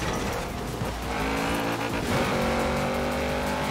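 A car drives past in the racing game Forza Horizon 4, its engine roaring steadily and loud throughout with a brief tire squeal, no talking over it.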